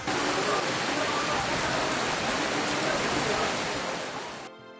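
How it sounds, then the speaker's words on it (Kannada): Heavy, steady downpour in Haveri district, Karnataka, a dense continuous roar of rain that holds evenly before easing slightly at the end. "ಹಾವೇರಿ ಜಿಲ್ಲೆಯ ಹಲವೆಡೆ ನೆನೆ ಧಾರಾಕಾರ ಮಳೆಯಾಗಿದೆ"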